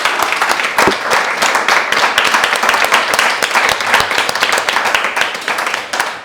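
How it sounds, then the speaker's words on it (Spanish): Loud, dense applause from an audience at a poetry book presentation, many hands clapping close and sustained for several seconds without talk. "Yo creo que podemos dar un aplauso, ¿no?"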